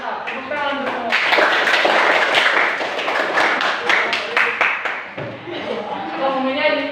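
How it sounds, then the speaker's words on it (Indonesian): A classroom group claps together in a dense burst of hand claps, sharp and close, with cheering voices mixed in and people talking again toward the end. "Tepuk tangan untuk semua."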